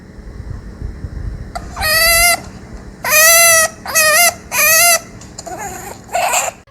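A chinchilla cries and screams in loud, shrill, harmonic squeals, several drawn-out calls in a row with short gaps and a softer chirp near the end, over a low background rumble.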